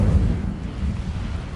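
Incendio fire spell cast in Hogwarts Legacy, a short, heavy whooshing burst with a deep rumbling roar that fades quickly with no talking.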